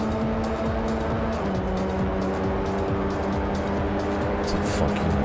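Racing car engine in R: Racing Evolution on PS2 as the car loses control after contact, a loud steady engine drone with shifting pitch and brief tire noise, in-game and close.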